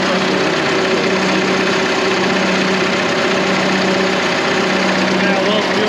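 A Deutz power unit engine idles steadily and loudly up close, a continuous low mechanical drone with a faint rhythmic knock, running without pause throughout.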